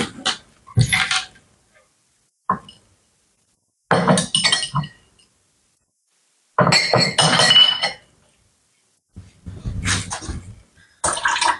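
Glass chinks and clinks in a few separate bursts while a glass of yogurt is fetched, close and fairly loud, with clattering handling and brief pauses of silence between the clusters.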